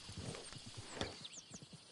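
Horse hooves clip-clop in the video game Red Dead Redemption 2, several animals stepping in a loose uneven rhythm close by, with game ambience behind and a brief whinny-like sound in the middle.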